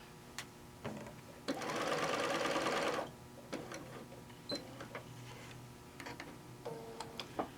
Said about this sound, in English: we're going to sew, do a little back stitch, and I'm going to stitch all the way around